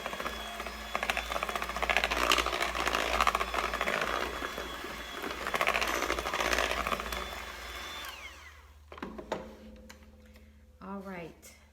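An electric hand mixer whirs steadily through sweet potato bread batter in a bowl for about eight seconds, then switches off, leaving quiet kitchen sounds and a brief voice.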